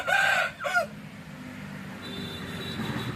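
A rooster crows once loudly and close in a two-part call at the opening, then fades into quiet outdoor background hum, heard during a morning stop on a cycling trip in Tamil Nadu.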